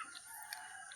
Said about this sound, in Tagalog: Manok guys.